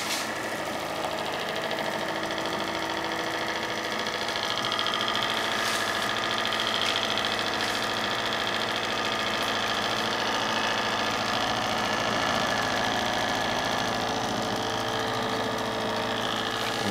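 A small Bedini SSG motor spins steadily, giving a continuous, even whirring hum that never changes for the whole stretch, with no voices.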